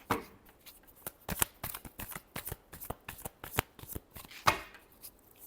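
Tarot cards being shuffled close up, a quick run of crisp riffling flicks and soft slaps repeating steadily for several seconds, with no voices.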